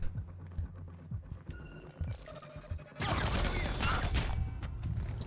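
Gunshots and crashing mechanical noise in the game Splinter Cell Blacklist, a few sharp isolated reports early on, then a loud sustained burst of impacts and clatter through the second half, with no talking.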